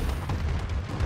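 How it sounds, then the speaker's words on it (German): Bombardment explosions in the Call of Duty Advanced Warfare multiplayer game, a steady barrage of heavy low booms rumbling continuously at loud level with no pauses. "Ich hasse diese Bombardierung."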